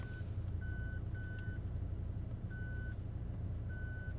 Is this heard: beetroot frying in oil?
no